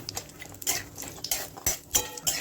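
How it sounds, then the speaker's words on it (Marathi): Grated coconut roasting in oil in a kadhai for a simple brinjal bhaji, with repeated scraping and clinking of a metal spoon against the pan and a soft sizzle underneath, fairly close. "आता आपण खोबरं भाजून घेऊ."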